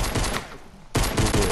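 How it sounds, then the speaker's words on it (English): Gunfire in the video game Fortnite fires in quick loud volleys, cuts off briefly, then resumes in a fresh rapid burst close by. "I just hear shots"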